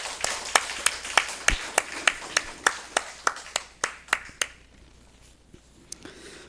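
During a Sunday morning church service, the congregation claps in a crisp, evenly spaced rhythm, about fifteen sharp, close claps that stop abruptly, leaving quiet room tone with a few scattered taps.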